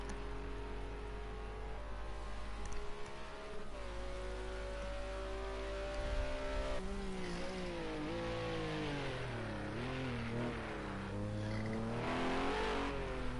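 GT3 race cars sliding around Fuji in a racing video game, engines droning and revving up and down continuously with faint tire squeal under a steady mechanical roar.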